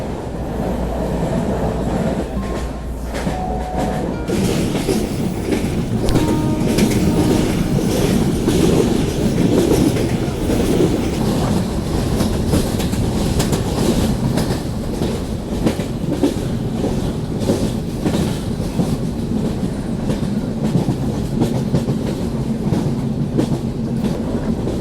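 Loud, steady rumble of a train rolling through foggy, cold hills toward Udhampur railway station, with continuous rhythmic clickety-clack of wheels on rails heard from inside a general-class coach.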